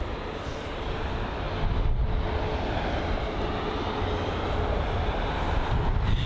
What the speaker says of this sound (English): There's a Finnair A321.